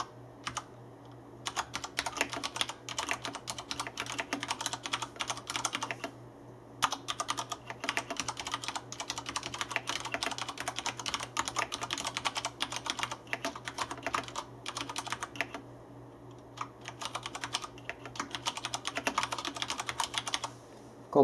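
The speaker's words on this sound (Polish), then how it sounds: "jak faktycznie wypada głośność klawiatury przy dość szybkim pisaniu" Fast typing on a Cooler Master (CM Storm) QuickFire Ultimate mechanical keyboard: rapid, crisp key clatter close to the microphone, running in long bursts broken by a few short pauses.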